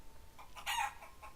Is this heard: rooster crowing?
yes